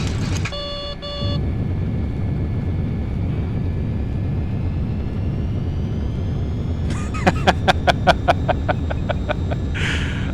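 MD-80 airliner rolling out after landing in a flight simulator, a steady loud engine and runway rumble with a whining tone, interrupted by electronic beeps and a quick series of rhythmic cockpit alert pulses.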